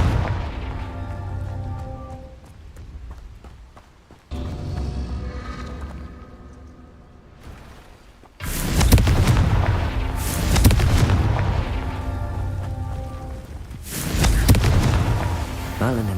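Fire spell explosions in the Hogwarts Legacy video game: a series of deep booming blasts and bursts, loudest and densest in the second half, repeating in clusters over continuous game sound.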